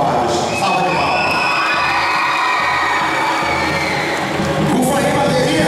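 A crowd at a management showcase event cheers and shouts, with children's voices whooping over a continuous loud roar, sustained and close throughout.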